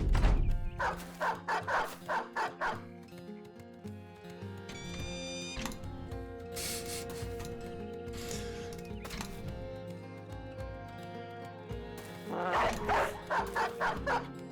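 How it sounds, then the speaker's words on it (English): War dogs in the video game Reforged bark in quick repeated bursts of yips and woofs, mixed with other game sounds, a whine and a horse-like cry in the middle, with more barking bursts at the end. "Get in there, doggies."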